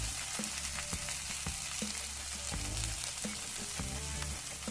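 Onion with turmeric and coriander powder frying in a pan for rajma masala, a soft, fairly faint sizzle with intermittent scraping knocks and some tonal background hum, with no speech.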